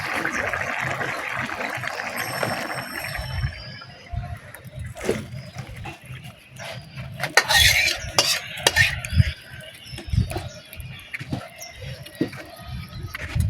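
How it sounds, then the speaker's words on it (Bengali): A spoon clinks and scrapes against a pan while fish and radish curry is stirred, giving irregular metallic taps and scrapes over a soft background sizzle. "মাছ দিয়ে অল্প একটু চালাবো, তারপর নামিয়ে দেবো।"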